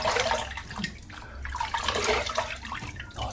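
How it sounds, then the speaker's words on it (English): Cold water splashed by hand during a wet shave, a bright broadband wash of close splashing and dribbling that swells and fades in a few uneven surges, with no voices. "that splash of cold water is incredible"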